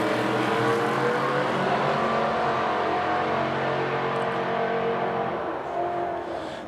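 Drag racing cars launch down the strip at the Oil City Classic in Edmonton, one running a throttle stop combo, their engines roaring loud and sustained throughout before easing slightly at the end.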